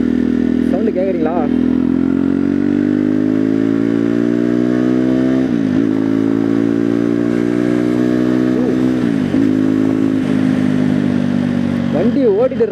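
A Jawa Perak motorcycle engine runs loud and close, its pitch rising and falling through several revs, with a few crackling pops in the exhaust.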